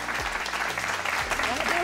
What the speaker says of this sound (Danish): Det blev ingen ende af, de her klapsalver